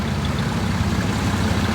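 A late-1950s farm tractor engine, sharing its engine with a Brown Jetstar and with a slight governor problem, runs steadily at idle in a low, even rumble with no pauses.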